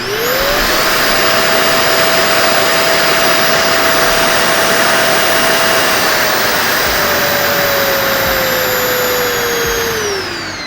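A RevAir reverse air-dryer runs loud and steady as a continuous suction roar, its motor whine climbing after switch-on, holding level, then falling as the speed is turned down near the end; no voices.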